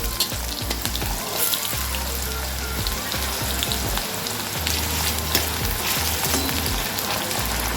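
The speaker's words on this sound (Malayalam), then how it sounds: "ഇനി നമുക്ക് ഉരുളക്കിഴങ്ങ് വറുത്തെടുക്കാം" Potatoes fry in hot oil with a dense, continuous crackling sizzle, close and steady with no voices.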